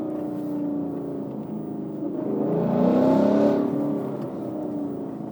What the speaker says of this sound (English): Pretty good exhaust note, though.